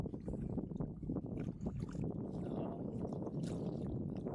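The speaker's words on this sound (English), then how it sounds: "That wind's fair puffing now." Steady wind gusting across the microphone at the shoreline during land-based fishing, a continuous rough low rumble with no voices, constant and fairly loud at the mic.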